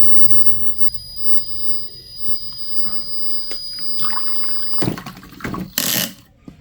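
Water rushes through a small Arduino-based smart toilet working model as it flushes, a brief loud gush near the end after low background noise.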